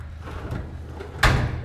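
A drawer in a garage workspace, where parts for a Chevy Colorado ZR2 exhaust install are kept, slides open and stops with one sharp knock after a stretch of low rumbling room noise.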